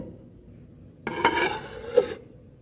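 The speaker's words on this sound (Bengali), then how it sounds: "এবার আমি আধ ঘন্টার জন্য একটা প্লেট দিয়ে ঢেকে রেখে দেব" A plate set down over a bowl of marinated chicken for pakora, a brief scraping clatter of ceramic with a couple of small clinks, close and fairly quiet.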